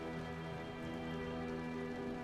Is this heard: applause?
no